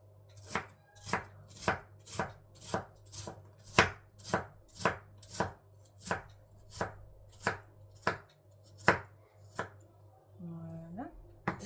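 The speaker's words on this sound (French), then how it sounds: "Donc, on coupe en petits bouts." A knife chops apples into small pieces on a board for an apple cake, with about sixteen sharp, steady strokes roughly every half second, close and distinct, followed by a short scraping slide at the end.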